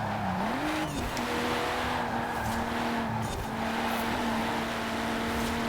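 Racing video game car holding a steady engine drone through a corner, with a sustained tire squeal running across the whole stretch at constant loudness, no talking.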